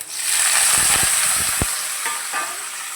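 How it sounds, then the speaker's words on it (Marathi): Chili, garlic and curry leaves fry in hot oil for egg bhurji, giving a steady broadband sizzle, with a few sharp spatula scrapes and taps near the start. No one speaks. "आता मिरची लसूण चांगलं तेलात परतलं आहे"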